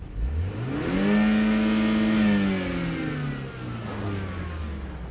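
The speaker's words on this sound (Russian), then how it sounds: "Нужно просто нажать на педаль газа для того, чтобы посмотреть, какой дым пойдет" A used BMW 5 Series engine revs once as the gas pedal is pressed, climbing quickly to a loud, sustained whine close by, then easing back down toward idle.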